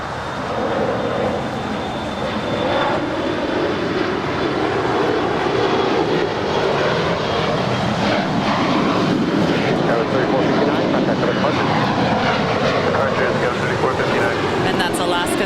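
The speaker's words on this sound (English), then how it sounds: "And that's Alaska Skywest" Alaska SkyWest Embraer 175LR jet departing Los Angeles airport for San Francisco, a loud, continuous engine roar with a thin high whine, sustained throughout under a talking voice.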